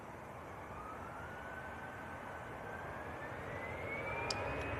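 easyJet Airbus A320 jet airliner bound for Zurich makes a faint distant engine roar with a slowly rising whine, growing a little louder toward the end.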